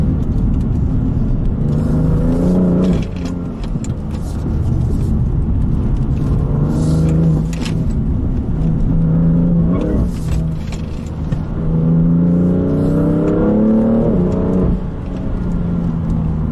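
A BMW M3 Competition sports car engine revs hard through repeated rising accelerations and gear shifts, loud and close, with no talk.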